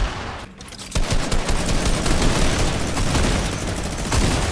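Rapid automatic gunfire from a Fortnite match rattles on loudly and almost continuously, bursts of shots overlapping in a dense, close fusillade.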